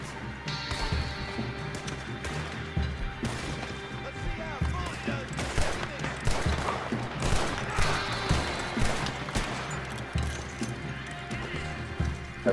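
Gunfire in the video game Red Dead Online mixed into busy action, with horses neighing and hooves clip-clopping, dense overlapping bangs and crashes at fairly high level, and a voice speaking intermittently underneath.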